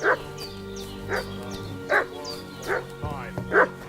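A dog in the Kingdom Come Deliverance 2 video game barks and yips repeatedly in short, evenly spaced bursts, with whimpering between them, over a low steady background and some faint voice.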